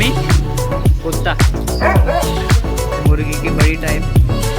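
A dog at a market with ducks and chickens barks in quick repeated yips, loud and close, with a steady beat of sharp barks over a constant low background hum and a few voices.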